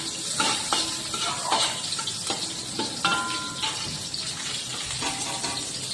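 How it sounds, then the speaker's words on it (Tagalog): Sliced onions hit hot oil and frying garlic in a pan for Filipino lomi, giving a steady crackling sizzle with stirring scrapes and clinks repeating throughout, and no talking. "pagkatapos natin ilagay yung bawang, lalagay natin ng sibuyas"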